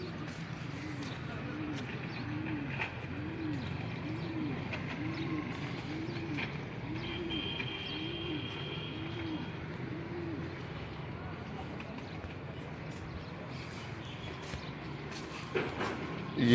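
Pigeons coo repeatedly in soft rolling phrases on a rooftop loft in Multan, with a steady urban hum beneath and faint distant traffic.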